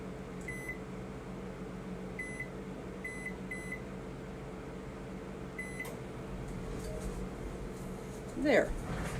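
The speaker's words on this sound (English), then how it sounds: "put that in the microwave oven just for several minutes" A microwave oven runs with a steady low hum, cooking a chocolate lava cake in a Tupperware pressure cooker, with a few short beeps and a brief clatter near the end.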